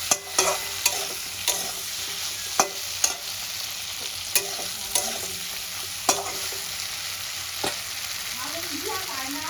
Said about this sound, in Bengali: এবার আমি ভেজে রাখা সজনার ডাঁটাটা আর আলুটা দিয়ে সঙ্গে সঙ্গে